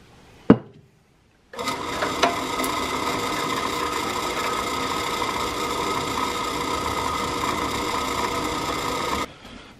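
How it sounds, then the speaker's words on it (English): A power drill bores a hole through an old metal shop light. After a single sharp knock, the motor runs as a steady, loud whine for about eight seconds, then stops abruptly. "So all I want to do is just drill a hole through this anywhere, just so we got a hole."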